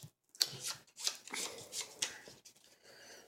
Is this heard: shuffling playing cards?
yes